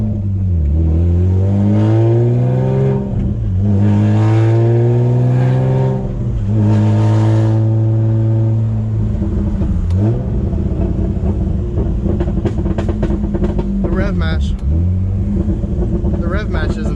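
A manual-swapped Infiniti G35 with partial exhaust drives and revs, its engine note climbing repeatedly through the gears in rising sweeps between shifts. The sound is loud, steady and close from inside the car.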